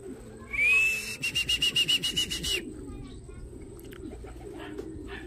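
At a racing loft during a young-bird derby, a high whistle sweeps up, then a fast, rhythmic series of fluttering pulses from an arriving pigeon, followed by faint low cooing and soft background noise.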